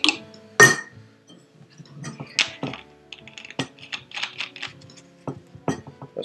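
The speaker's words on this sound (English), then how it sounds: "I'll shake it gently just to get the sugar all integrated in there." A container of homemade ginger ale with sugar is shaken gently by hand, giving close, sparse glassy clinks and light taps at an irregular rhythm, with no voices.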